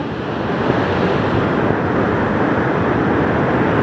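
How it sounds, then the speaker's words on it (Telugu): Water surges forcefully through an open gate of Madduvalasa Dam, which has twelve gates. A loud, steady, dense roar fills the whole clip without a break, and no one speaks. "ట్వెల్వ్ గేట్స్ ఓపెన్ చేసేది మాత్రం చాలా ఫోర్స్గా వాటర్ వస్తాయి"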